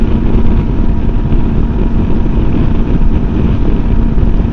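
A MUTT Stravaig 401 motorcycle is ridden at about 6,800 RPM and 70 mph, producing a loud, constant engine drone mixed with heavy wind rush that never lets up.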